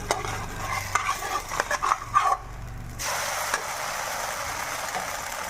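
Bellam appalu, sweet jaggery fritters, cooking in a pan with a soft sizzle and a few scraping clinks at first, then a steadier muted hiss after the lid goes back on, with no voices.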